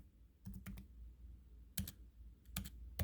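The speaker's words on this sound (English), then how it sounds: "And then you got to type it again." Computer keyboard keys tapped in short bursts while entering a password during setup of a Netgear Nighthawk X6 AC3200 R8000 router, a few quick clusters of clicks separated by pauses, close and fairly quiet.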